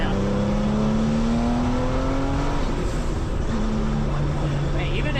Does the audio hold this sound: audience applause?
no